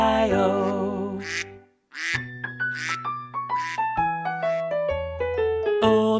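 Duck quacks repeat rhythmically within an upbeat children's nursery-rhyme farm song with musical accompaniment. Voices sing along, imitating the quacking in time with the melody.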